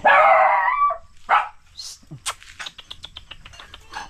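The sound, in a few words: dogs barking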